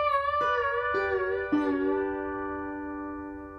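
Clear slide guitar notes, each sliding briefly before ringing out, three quick slides in succession and then a long sustained, fading chord.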